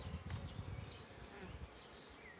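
Honey bees of a gentle, productive line hum around the hives of an apiary, a soft continuous drone with a few individual bees buzzing past faintly.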